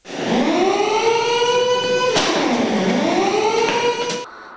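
A fire and rescue station siren in Cherkasy wails loud and close, a steady rising-and-falling tone that dips and swells once before cutting off, with no talk over it.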